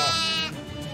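A sheep in the video game Shadows Over Loathing lets out a single loud, wavering bleat that fades out after half a second.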